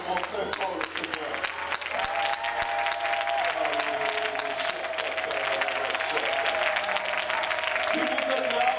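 A church congregation claps loudly and steadily throughout a worship service, a dense continuous applause with crowd noise, while a sustained tone from music or an instrument holds in the background.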